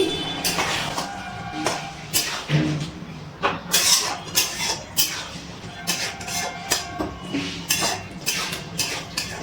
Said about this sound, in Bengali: এবার একটু নাড়াচাড়া করে মিশিয়ে নিচ্ছি।